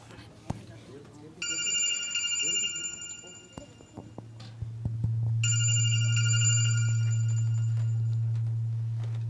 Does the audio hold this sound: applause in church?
no